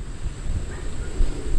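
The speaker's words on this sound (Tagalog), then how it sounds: "At grabe ang hangin." Strong typhoon wind gusts across a rural farm beside fishponds, buffeting the microphone with a loud, uneven low rumble that swells and dips throughout, with no voices.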